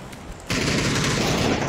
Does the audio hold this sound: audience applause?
no